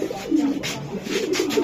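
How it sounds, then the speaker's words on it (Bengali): Racing pigeons cooing up close, a few low throaty rolling coos overlapping in quick succession against faint background rustle, with no speech. "এই যে আরেকটা কবুতর, দেখার মতন কবুতর"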